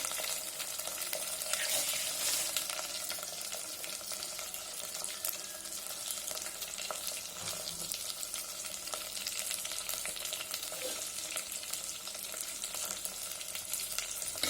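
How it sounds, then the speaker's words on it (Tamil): Shallots and garlic sauté in sesame oil for a Tamil fish curry, giving a steady, close frying sizzle with faint scraping stirs throughout and no talking. "நல்லா வதங்கட்டும்"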